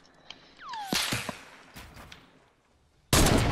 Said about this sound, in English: Oh, they're shooting, shooting.